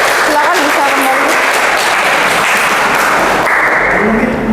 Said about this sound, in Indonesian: terima kasih kelompok 3, kita beri aplaus